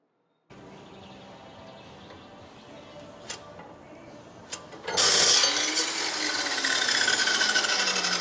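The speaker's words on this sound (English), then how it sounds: "get that flat stock over to the chop saw, cut this out" A chop saw cuts steel flat stock for a Toyota FJ45 frame repair; after quiet handling noise and a couple of clicks, the blade bursts into a loud grinding shriek that holds steadily to the end.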